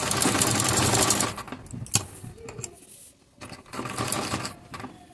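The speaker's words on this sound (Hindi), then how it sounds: "उसके बाद सिलाई लगाएंगे, यहाँ पर जिग जैग वाला डिज़ाइन बनाएंगे।" Sewing machine running a zigzag decorative stitch on fabric, steady rapid mechanical chatter close up, stopping briefly midway and then starting again.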